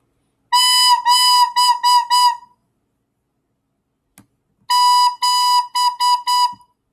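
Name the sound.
recorder played with a hole uncovered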